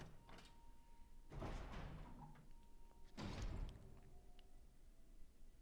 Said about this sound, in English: Just doors and zombie things.